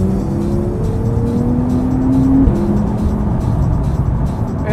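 A Porsche 911 Turbo (991.1) in sports mode accelerates hard, its engine note climbing loudly through the revs, briefly breaking at a gear change midway, then pulling up again, heard from inside with no talking.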